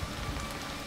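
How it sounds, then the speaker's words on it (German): Steady rain falls in the horror video game The Quarry, a dense, even hiss of drops on surfaces with no voices and no breaks in the brief stretch. "Jetzt regnet es auch noch."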